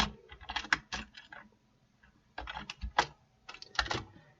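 Code is typed on a computer keyboard in two quick bursts of clicky keystrokes, quiet and close, with a brief pause between them.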